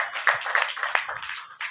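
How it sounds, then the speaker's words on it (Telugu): A church congregation at a Christmas service applauds children, giving a short burst of many hands clapping together at close range. "మరి ఒకసారి చప్పట్లు కొట్టి వారిని ఎంకరేజ్ చేద్దాం."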